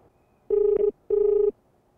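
A phone rings while a call is placed to a customer: two even, buzzing ring tones about half a second each, separated by a short gap, clear and close with no talk.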